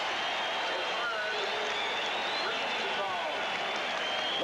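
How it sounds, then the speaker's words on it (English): Seattle SuperSonics home crowd at a 1980 NBA playoff game against the Portland Trail Blazers, a sustained, even roar of cheering with a commentator talking over it. "And listen to the Sonic crowd."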